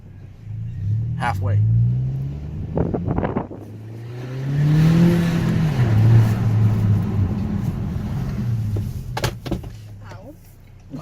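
A 2018 Honda Accord with a muffler delete rumbles low as it drives and revs with the windows open, the deep drone swelling and easing under people talking in the car.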